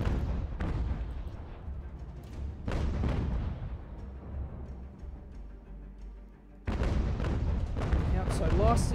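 Ship cannons boom in a naval battle in the game Ultimate General: American Revolution: heavy, rumbling blasts burst out in a few loud waves, each trailing into a long low roar.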